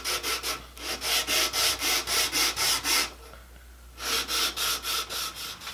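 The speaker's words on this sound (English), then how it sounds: "I've got my sanding beam here, and I'm just sanding on the one side that I'm going to glue down" A sanding beam rubs back and forth along one side of a wooden acoustic guitar neck in steady, even strokes, close and loud, with a brief pause before the rhythm resumes.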